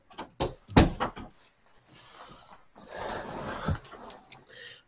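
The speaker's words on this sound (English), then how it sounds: "Oh, and I gotta close my door." Door closing indoors: a cluster of quick knocks and a sharp thud early on, followed by quieter rustling and handling noises, close to the microphone with no speech.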